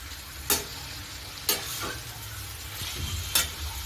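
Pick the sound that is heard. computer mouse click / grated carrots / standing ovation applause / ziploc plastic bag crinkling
grated carrots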